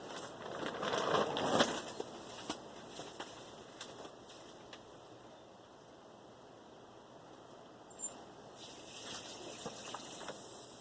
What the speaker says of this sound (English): Watering in. I got the hose going here,